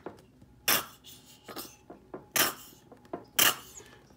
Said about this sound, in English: put some spicy red sauce in the bowl